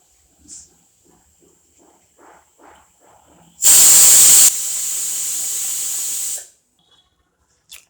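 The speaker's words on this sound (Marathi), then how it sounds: "मस्त कुकरच्या दोन शिट्ट्या काढून घे" A pressure cooker cooking brinjal for bharta lets out one loud, piercing hiss-whistle lasting about three seconds, preceded by soft rattling puffs of steam and followed by quiet.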